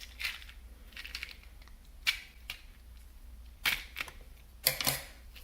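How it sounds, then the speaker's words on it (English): Small scissors snip through tape sealing a box of red beads, a few sharp clicking cuts and rustles spaced irregularly, close and fairly quiet, with no voice. "So I'm going to take my scissors."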